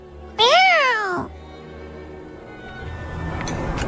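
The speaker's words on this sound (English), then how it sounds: "Let's follow that cat." A single clear, loud cat meow in the Duet Night Abyss video game, a rising and falling cry lasting under a second, followed by quieter ambient game background.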